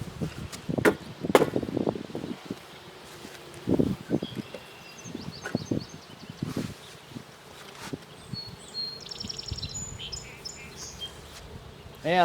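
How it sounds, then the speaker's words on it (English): Honey bees hum around an open hive in a backyard apiary during requeening work, a steady buzz under intermittent handling knocks and clunks, with faint bird chirps in the background. "Lots of bees."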